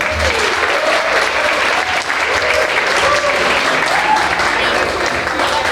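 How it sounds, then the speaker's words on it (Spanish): Sustained audience applause fills a hall at a law conference on migration and forced displacement as the moderator is welcomed, a dense, steady wash of many hands with faint voices underneath. "a quien recibimos con un fuerte aplauso"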